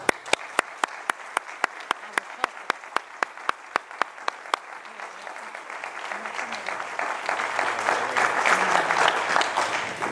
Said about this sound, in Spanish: si os parece a todos, un aplauso